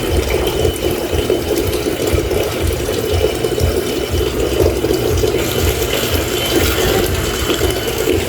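Water from a hose or can pours slowly and steadily onto potted flowers being transplanted, a continuous broadband hiss and splatter that stays even from start to finish with no talking.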